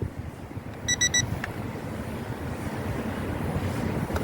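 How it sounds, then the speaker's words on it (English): A JJRC X25 GPS drone's controller sounds a low battery warning: a quick run of bright electronic beeps near the start, over steady outdoor wind and rumble in a park. "Sorry about the beeping, that is just my low battery warning."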